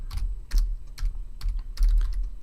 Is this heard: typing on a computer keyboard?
yes